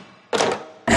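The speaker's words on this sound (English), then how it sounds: "Can opener." A can opener in a kitchen gives two brief mechanical bursts, a clattering grind followed by a short pause and a second louder crunch, close up with no voices.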